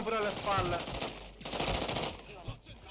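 Rapid automatic gunfire from a shooter video game rattles in dense, loud bursts for almost three seconds, with short gaps between volleys and a faint voice talking underneath.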